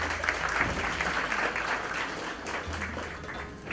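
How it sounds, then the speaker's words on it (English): An audience at a book launch applauds steadily, a dense patter of many hands clapping that holds at an even level throughout without voices over it. "Please, big round of applause for her for being a life partner to me."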